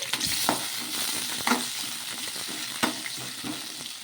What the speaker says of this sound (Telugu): ఆయిల్ అయితే వేసుకున్న తర్వాత మన కారాన్ని బట్టి పచ్చిమిర్చి అలాగే ఒక టమోటో వేసుకొని మగ్గించుకోవాలి